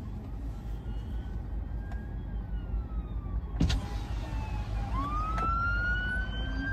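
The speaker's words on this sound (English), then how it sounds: "Is that the fire engine?" A fire engine siren wails and sweeps in pitch over steady motorway traffic rumble, rising louder toward the end as it approaches.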